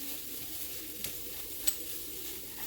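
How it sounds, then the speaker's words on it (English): Garlic and onions fry in a pan with a steady, close sizzle, broken by a couple of brief clicks. "We got the garlic and the onions going."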